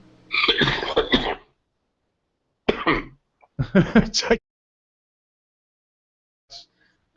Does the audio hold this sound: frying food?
no